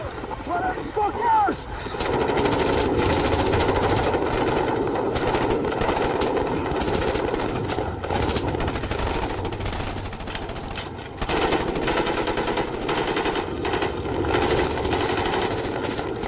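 Automatic gunfire crackles in sustained bursts in a video game firefight, dense and loud, with a brief pause near the end before it resumes. Shouted voices come through over the shooting.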